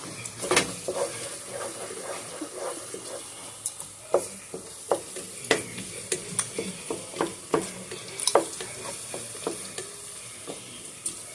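Stuffing ingredients sauté in a pan with a constant gentle sizzle, punctuated by irregular sharp clicks and taps of a utensil stirring against the pan.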